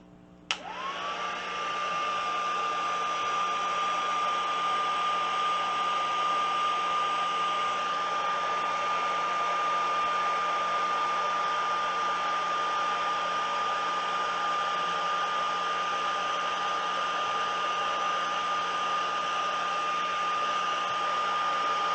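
A hair dryer blows steadily to dry ink on a sheet of mica, switching on with a click and then running as a loud, continuous whine with no voices.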